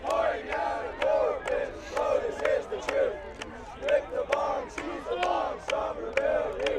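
A large crowd at a college regionals event chants a rhythmic team cheer in unison, voices rising and falling with sharp accented beats, loud and sustained throughout.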